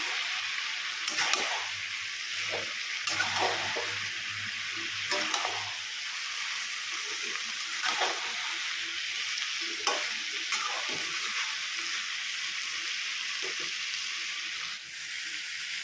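Vegetables coated in ground cumin and coriander are stirred in a frying pan for a prawn curry, a steady sizzle running throughout with repeated scraping strokes of the spoon, close and continuous with no talk.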